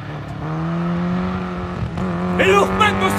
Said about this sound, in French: La voiture ratatouille, elle tourne sur 2 ou 3 cylindres, on sait pas.